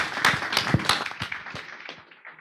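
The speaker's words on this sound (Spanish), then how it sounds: "un gran aplauso para Ricardo, por favor" A conference audience claps for a speaker, a short, sparse burst of individual hand claps fairly close by that fades out over about two seconds.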